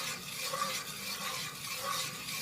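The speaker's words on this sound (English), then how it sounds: "Okay, so I'm going to keep stirring." Thick homemade stove-top play dough being stirred in a pot, a steady close scraping and slapping texture with faint sizzle, continuous and unbroken, no talking.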